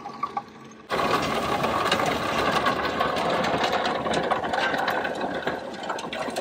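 A Bobcat fitted with a Coneteks 2.13M forestry rotor head grinding through heavy overgrowth, a loud, steady mechanical roar that kicks in abruptly after a quiet start and runs continuously.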